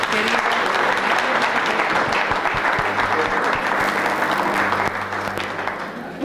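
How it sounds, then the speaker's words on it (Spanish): Strong sustained applause from a lecture audience at a conference on General Martín Miguel de Güemes, dense clapping throughout that tapers slightly near the end, with faint voices underneath. "Un fuerte aplauso para nuestro querido."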